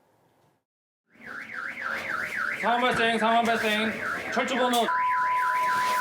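An alarm siren wails at a military guard post, its rising and falling tone repeating steadily and loudly throughout, with short bursts of a second harsher alarm tone and a steady beep joining near the end.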